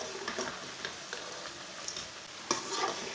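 Cabbage and egg pakoras frying in a pan, giving a soft steady sizzle with occasional light ticks and scrapes as they are turned, quiet and without talking.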